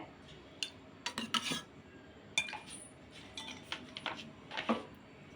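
Spoonfuls of soaked sabja seeds go into a glass for a kiwi Sprite drink, giving a few sharp metal-on-glass clinks and light scrapes, close and fairly quiet, with no talking.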